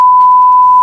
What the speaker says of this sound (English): I think I'm gonna go ahead and beep out that part